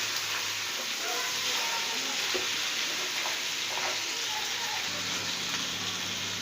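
Mutton sizzles and fries in a pan with dried chili for white korma, a steady close hiss and crackle with faint stirring.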